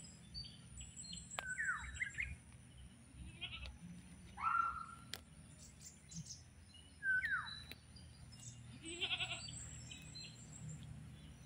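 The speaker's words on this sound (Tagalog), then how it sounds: "Oh, andito na naman yung mga kambing." Goats bleating near a garden after rain, several wavering calls spaced apart at a moderate distance over quiet outdoor background, with faint bird chirps mixed in.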